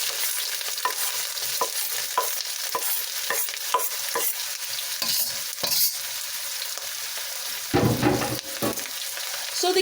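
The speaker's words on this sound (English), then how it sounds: "I'm going to go ahead and I'm going to add these onions and this garlic" Onions and garlic stir-frying in sesame oil in a wok over very high heat: a close, steady sizzle broken by repeated scraping stirs and tossing clatters, with a louder burst of frying near the end and no voices.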